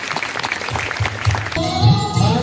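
Applause at a church Christmas gathering, a roomful of hands clapping under a steady wash, with singing and music rising into the second half.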